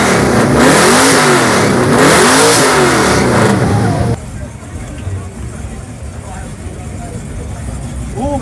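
An American car at an exhaust volume competition during a car meet revs its engine loudly in repeated rising and falling surges for about four seconds. The idling rumble continues more quietly under crowd chatter.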